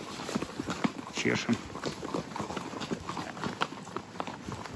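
Tired horses walk on a mountain trail in a Caucasus nature reserve in Adygea, their hooves clip-clopping in an uneven rhythm close by, with people talking over it.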